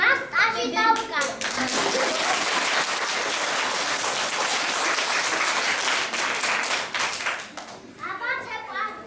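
A group claps together in loud, sustained applause lasting several seconds, framed by children's voices speaking at the start and end.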